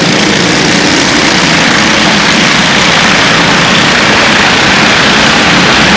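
Stock car engines race at Grand Bend Speedway in 1999, a loud, unbroken wall of roaring motor noise with no distinct pauses or separate passes, saturating the recording throughout.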